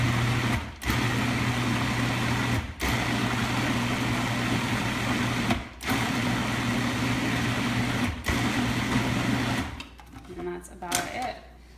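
Blender pureeing cooked cauliflower, a steady motor whir that runs in several long bursts with short pauses between, then stops and gives way to quieter clatter at the end.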